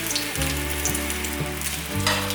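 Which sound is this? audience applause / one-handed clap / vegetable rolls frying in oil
vegetable rolls frying in oil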